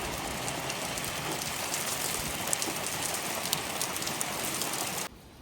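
Heavy rain pours steadily, a dense, loud hiss of drops striking surfaces nearby, continuous for about five seconds before cutting off abruptly.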